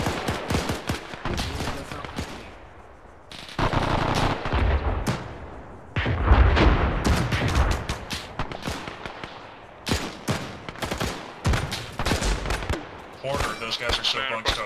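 Gunfire in the military video game ArmA 3, with rapid bursts and single sharp shots cracking repeatedly through the clip, some loud and close with rumbling tails, separated by brief gaps.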